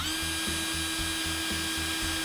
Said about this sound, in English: this right here is a drill